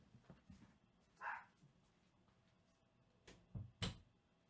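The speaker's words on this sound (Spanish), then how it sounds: "se ha puesto el perro nervioso" A nervous dog indoors gives a faint whimper, then a few short, muffled barks in quick succession near the end, all quiet and far from the microphone.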